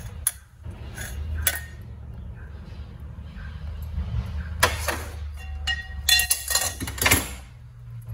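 Jaggery syrup strained and poured into a pot for Tamil pongal, with metal utensils clinking and scraping over a low kitchen hum, and a cluster of sharp clatters near the end.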